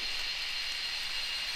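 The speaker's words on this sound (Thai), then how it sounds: "ผมได้ยินเสียงฝนตกแล้วนะครับ" Rain falling in a forest makes a steady, even hiss of countless drops, soft but continuous with no other sounds.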